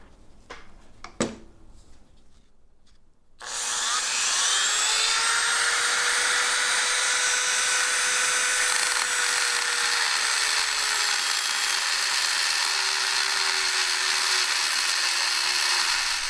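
A Dremel rotary tool grinds down a vehicle shock mount so the shock will fit, starting after a few seconds of quiet handling noises and then running as a loud, steady, high-pitched whine with a slowly shifting tone.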